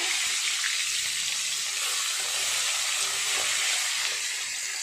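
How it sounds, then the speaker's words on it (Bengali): Pieces of bhetki fish frying in hot oil in a pan, giving a continuous, fairly loud hissing sizzle that stays steady throughout with no voices. "মাছগুলো আজ আমি একটু লাল লাল করে কড়া করে ভাজবো।"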